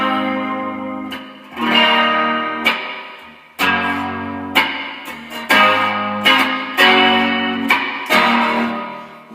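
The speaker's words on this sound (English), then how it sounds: "let me just crank the crap out of the reverb in with a rotary." Electric guitar chords run through heavy reverb and a rotary speaker effect ring out one after another in a loose rhythm, each strum swelling and then washing into a long, swirling decay.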